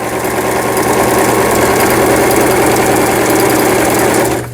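A Toyota sewing machine, model CB03K, runs a zigzag stitch with a steady, loud mechanical whir and rapid needle chatter that holds for several seconds and then stops abruptly, with no talking.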